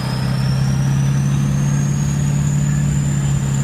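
A car engine runs steadily in gear with a constant low hum and a slowly rising whine, close and loud, with no distinct shift audible and no voices.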